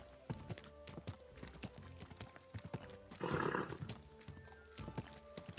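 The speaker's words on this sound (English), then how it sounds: "Easy, good horse." Horse in the video game Kingdom Come: Deliverance 2, with a run of clip-clop hoofbeats and a brief loud neigh midway, then more hooves, fairly close with a faint background bed.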